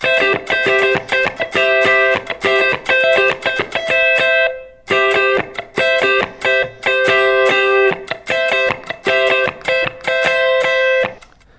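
A loud, distorted electric guitar plays a quick repeating lick, notes ringing close together, with a brief pause midway before the phrase returns.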